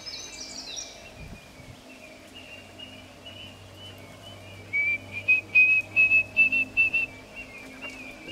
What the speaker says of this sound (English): there's their callback sound that you may hear them doing now.